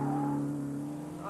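A Lotus Exige sports car engine holds a steady, droning tone close by, settling slightly lower toward the end with a brief rise at the finish.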